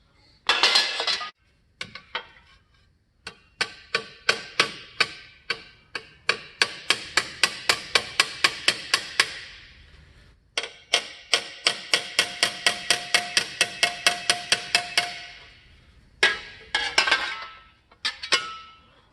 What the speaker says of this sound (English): We're just going to hammer in the ridges.